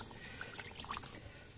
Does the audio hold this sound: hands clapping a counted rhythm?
no